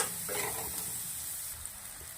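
Two finely chopped onions fry in a pan for a vegetable pulao, giving a steady soft hiss of sizzling with a faint stir near the start, fairly quiet and without talk.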